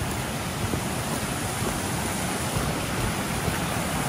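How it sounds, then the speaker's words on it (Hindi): A small, gently flowing forest cascade in Australia near a footbridge, giving a dense, steady rush of water that fills the whole clip, close and even without any breaks or voices. "यहाँ पर पानी की अच्छी आवाज़ है।"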